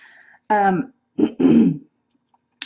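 A close throat-clearing cough in two or three rough bursts, preceded by a brief faint murmur, then silence.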